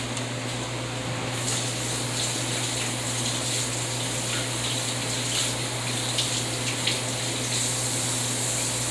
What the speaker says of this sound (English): what I'm going to do now is I'm going to wash my hands.